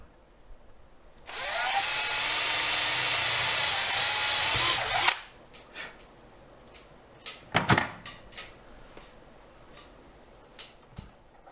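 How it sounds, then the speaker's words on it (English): A power drill bores a hole in a wooden wheel for a small elevator model, whirring loudly and steadily for about four seconds before stopping, followed by a few scattered knocks and clicks as the piece is handled. "take a wooden wheel and drill 1 hole in the center and 1 hole in the periphery"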